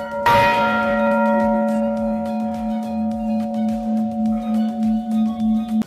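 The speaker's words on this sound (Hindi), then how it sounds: "ये देख सकते हैं इतनी बड़ी घंटी" A large bell at Chitai Golu Devta Temple in Almora struck once, its deep resonant tone ringing out and slowly decaying over several seconds, with faint background bustle.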